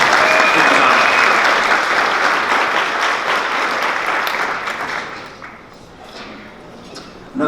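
A crowd at a youth awards event claps loudly for the board president, and the sustained applause dies down to sparse scattered claps near the end.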